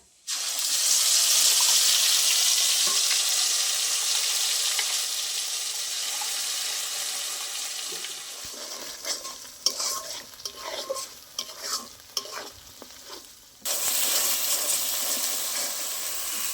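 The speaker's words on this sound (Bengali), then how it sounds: "তেলের মধ্যে ফোড়নে দিয়ে দেবো গোটা গরম মশলা, বেটে রাখা মশলা দিয়ে দেবো তেলের মধ্যে" Whole garam masala and ground spice paste frying in oil, a loud sputtering hiss at first that settles, then a stretch of irregular stirring clicks and scrapes before the strong sizzle surges back.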